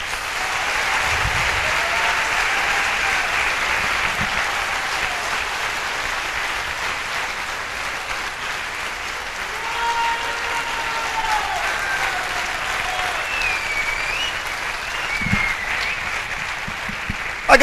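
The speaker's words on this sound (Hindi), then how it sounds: "सर दिल से ताली बजाइएगा" An audience at a Safe Shop seminar in Bhopal in 2018 claps steadily for a long stretch, a dense, even wash of applause with faint crowd murmur underneath.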